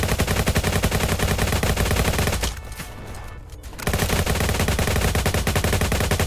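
Rapid, relentless automatic AK-47 gunfire in the Roblox game Jailbreak rattles in a dense stream, briefly dropping out for about a second before the barrage resumes at full intensity.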